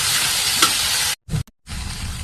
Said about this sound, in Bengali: লতিটা এখন লতিটা একটু ভালোভাবে ভেজে নিতে হবে।